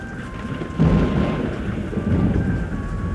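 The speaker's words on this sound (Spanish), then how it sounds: "¿Vio esa lluvia, oficial?" Heavy rain pours steadily while a deep roll of thunder rumbles in and swells, loud and close, with no voices.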